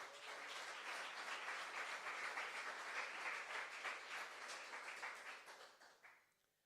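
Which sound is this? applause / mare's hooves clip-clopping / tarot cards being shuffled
applause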